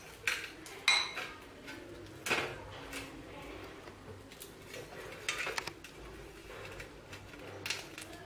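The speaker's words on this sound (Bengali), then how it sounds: "জলটাকে একটু নাড়াতে হবে, চিনিটা গলে যাবে।" A spoon stirs water to dissolve sugar for aam pora sharbat, making faint, irregular clinks against a glass or bowl, with light clatters and bird cooing in the background.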